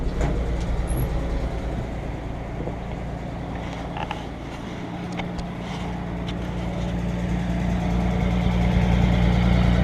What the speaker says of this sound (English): I'll go out and let you listen to the exhaust on it.